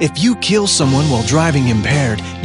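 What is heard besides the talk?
No everyday noise stands out behind the speech.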